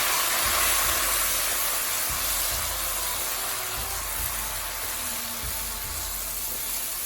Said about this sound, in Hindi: अब इस स्टेज पे आके हम इसमें डाल देंगे दूध